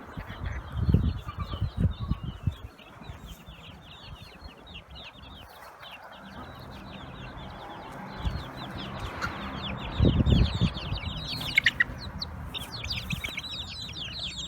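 Hens and chicks in a sunny garden, with steady high peeping from chicks throughout and bursts of low clucking from the hens, some near and some farther off.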